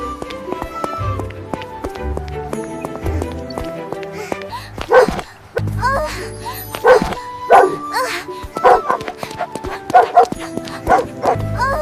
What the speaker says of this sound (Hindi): डॉगी कितना खतरनाक है, ये आज मुझे ही नहीं छोड़ेगा